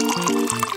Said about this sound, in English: I'll pour in some milk.